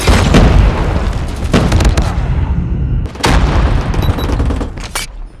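An enemy sentry gun is destroyed in Call of Duty Mobile, with loud booming blasts and a dense rumble of gunfire throughout and a sharp explosive hit about three seconds in.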